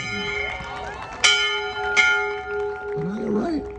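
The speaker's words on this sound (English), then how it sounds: "Diana, ring that bell." A bell rings out twice at a class of 2023 celebration, two loud ringing strikes a second apart that decay slowly, with crowd noise and voices underneath.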